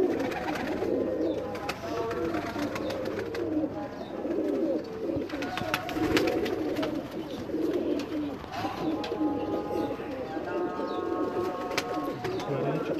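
Domestic pigeons in a loft coo steadily and softly at close range, with someone speaking intermittently over the continuous murmur of the flock.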